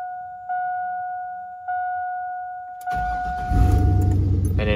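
A 2001 Chevy Silverado 1500 cranks and starts after an oil change. A steady two-tone key chime plays first, then the engine catches and settles into a loud, close idle.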